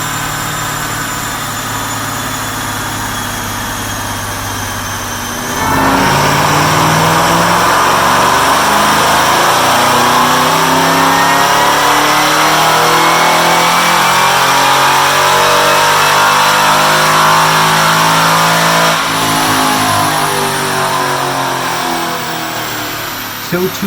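Supercharged car on a chassis dyno, heat-soaked and making about 610 rear-wheel horsepower, idles then roars into a loud sustained wide-open-throttle pull with rising pitch, dropping back near the end; no talking.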